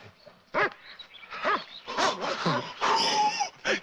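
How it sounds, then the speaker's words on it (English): A dog yelps, whimpers and gives short barks in a run of bursts, near and fairly loud, with a person's voice mixed in among the calls. "That's a dog."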